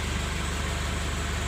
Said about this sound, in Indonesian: ini mesin dalam kondisi hidup